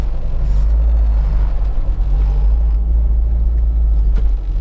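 A car pulling away from a stop: steady, loud low engine rumble close by that holds even throughout, with no voices.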